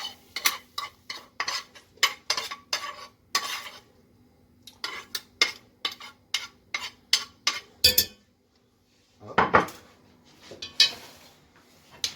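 Spatula scrapes and clinks against a pan as veal sauté with spices and vegetables is stirred, a steady series of sharp, close scraping strokes with a short pause near the end.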